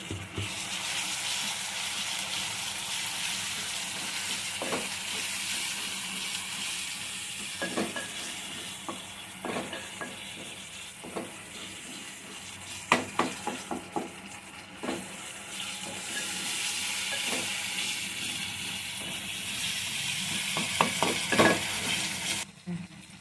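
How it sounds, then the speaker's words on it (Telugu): Ginger garlic paste sizzles with softened tomato pieces in a pan, a continuous frying hiss broken by scattered sharp clicks and scrapes of stirring, with no talking. "ఇప్పుడు ఒక స్పూను అల్లం వెల్లుల్లి పేస్ట్ వేసుకుందాం"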